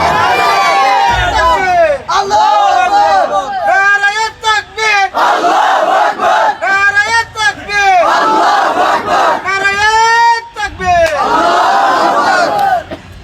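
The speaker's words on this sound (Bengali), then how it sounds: "হাত উঁচু করে নারায়ে তাকবীর বলে দাও" A large gathered crowd at a religious gathering in Cox's Bazar roars the slogan Nara-e-Takbir in repeated loud unison shouts, each chant rising and breaking off in waves over about thirteen seconds.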